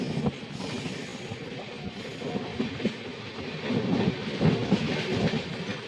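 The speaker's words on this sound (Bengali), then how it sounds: "ওটা চলে আসছে এখন নিউ আলিপুরদুয়ার শিয়ালদা পদাতিক এক্সপ্রেস।" The New Alipurduar–Sealdah Padatik Express rolls past at a station, a steady nearby rumble of wheels and carriages with rhythmic clatter building louder toward the end.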